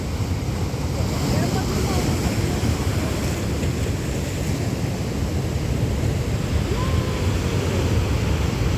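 Big ocean waves surge and crash at a rockpool in Kiama, New South Wales, a constant loud roar of surf with wind buffeting the microphone, and faint voices in the background.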